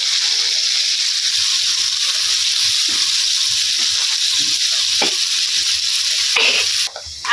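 Boal fish from the Kongsho river, rubbed with turmeric and salt, sizzles steadily in a pan with a close, constant hiss and soft stirring scrapes, ending in a brief clatter.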